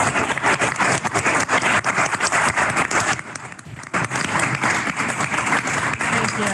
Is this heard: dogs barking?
no